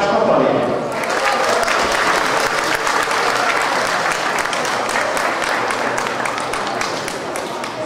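Sustained applause from the crowd at a school sports run in Pásztó, dense clapping that starts loud and holds steady for several seconds, with a voice speaking over it.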